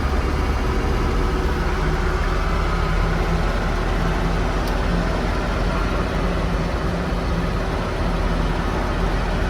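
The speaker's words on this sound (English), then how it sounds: "I'm not used to driving one of these diesels, so I'm not sure when I'm supposed to be shifting." A Mercedes W460 300GD diesel with a manual transmission drives along, its engine and road noise a loud, steady drone heard from inside the cab, with no clear break for a gear change and no talking.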